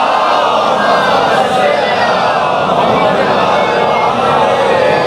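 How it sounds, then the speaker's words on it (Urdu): Many voices at a Muharram majlis gathering recite salawat together once more, a loud, continuous massed chant swelling evenly from start to finish, close and overwhelming. "ایک دفعہ پھر ذرا اونچی آواز سے سلوات بھیجیے"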